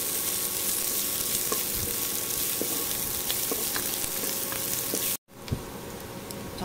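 Garlic and onion sauté in oil in a hot pan for a Filipino humba-style dish, a steady bright sizzle with occasional stirring clicks and scrapes, close and continuous, briefly cutting out near the end.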